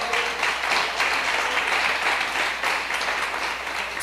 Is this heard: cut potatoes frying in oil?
no